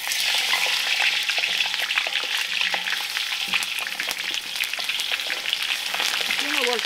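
Chiles roasting over a fire on a rancho, with a loud, continuous crackling sizzle full of dense pops and snaps that runs throughout.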